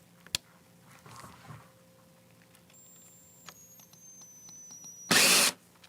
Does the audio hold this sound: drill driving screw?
yes